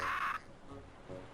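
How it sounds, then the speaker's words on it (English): A parrot in the Escape from Monkey Island video game squawks once, a short harsh call at the start, followed by quieter ambient game sound. "Kind of sounds like a parrot."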